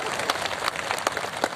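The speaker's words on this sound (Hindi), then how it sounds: "एक बार जोरदार तालियां उनका दिल से सम्मानित करते हैं हम।" Audience applause honouring diamond industry guests at a business gathering, steady dense clapping with a few sharper bursts, fairly near and continuous throughout.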